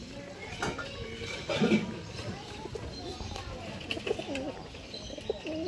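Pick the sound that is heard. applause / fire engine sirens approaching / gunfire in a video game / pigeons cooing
pigeons cooing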